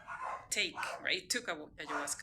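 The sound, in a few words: dogs barking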